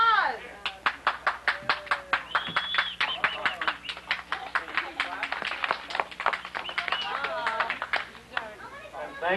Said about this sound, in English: Some applause.